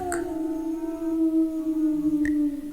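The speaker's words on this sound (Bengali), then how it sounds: "বাইরে শেয়ালের ডাক।" A single long, sustained animal howl like a jackal's, held on a steady falling tone with a clear harmonic ring, heard outside with a brief click near the end.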